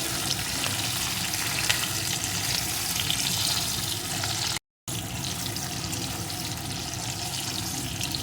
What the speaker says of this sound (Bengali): এখন টমেটোটাও এই ক্যাপসিকাম সাথে একটু ভেজে নেব